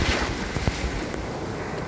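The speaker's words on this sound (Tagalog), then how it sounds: "Napakalakas ang alon nito." Strong ocean waves at a beach in Brunei, a brief burst of rushing surf and wind noise, loud and continuous.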